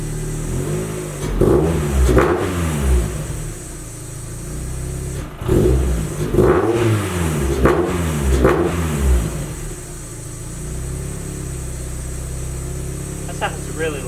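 A 1999 NB Miata fitted with a Roadster Sport 3 exhaust revs in bursts, engine rising and falling through several sharp blips in two clusters, loud and close, with idle in between and people talking nearby.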